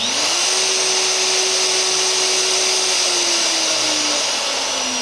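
A Hitachi M12VE half-inch router from 2012 runs steadily after a soft start, its motor whine rising briefly and then holding a loud, continuous, close drone for the whole stretch, with no voices.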